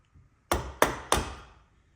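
Mallet striking a chisel to chop wood in a carpentry hand tool exercise, three sharp, evenly spaced knocks up close, each with a short ringing decay, after a faint light tap.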